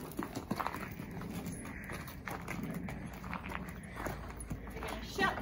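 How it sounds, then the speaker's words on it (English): A pony's hooves clip-clop as it is led out of its stable at a pony club yard, with steady, moderately close footfalls over a hum of background noise. "We're gonna take him out the stable and tie him up outside."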